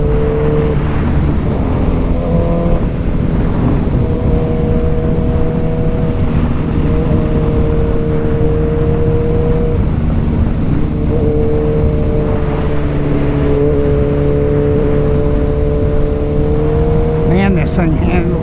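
A 2024 25th-anniversary Suzuki Hayabusa motorcycle engine droning loudly and steadily while riding, its pitch rising and falling through gear changes under heavy wind noise.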